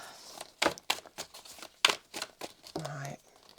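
Tarot cards shuffled by hand in several quick riffling bursts and slaps, papery and close, with a short low hum near the end.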